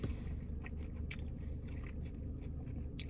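Close, crisp crunching bites and chewing of a KFC fried chicken sandwich repeat against a low background hum, with sharp crackles standing out.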